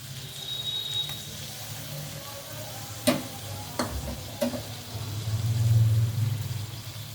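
Loitta fish frying in a pan over a low gas flame gives a steady, close sizzle with a few sharp utensil knocks and swells into a louder hiss toward the end.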